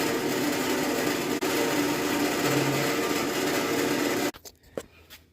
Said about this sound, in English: now I'm drilling the hole in this